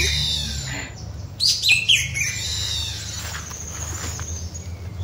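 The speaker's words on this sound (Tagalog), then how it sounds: "may naririnig ako huni ng ibon." Birds call from coconut palms, a scatter of high chirps and squeaky tweets, some sharp and close, others fainter, over a steady low outdoor rumble.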